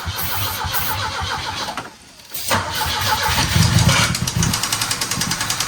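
An old Volvo engine cranks with a rapid starter whir, drops out briefly, then cranks again and catches into a rough, loud running rumble with uneven pulsing.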